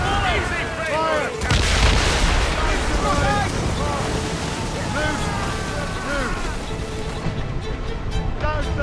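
Naval cannons fire in a sea battle in Assassin's Creed Rogue as heavy booms land over wind and waves while crew voices shout orders.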